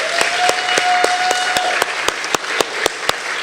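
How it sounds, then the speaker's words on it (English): An audience at a cultural studies forum applauds the presenters, a dense run of steady hand claps, fairly loud and close, that carries evenly through without voices. "A round of applause for everyone."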